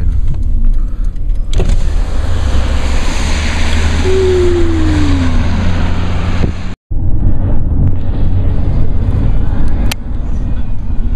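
Steady broadband road and rain hiss from inside a car driving in the rain across Oregon, with a brief gliding whine midway and a sudden cut near the end.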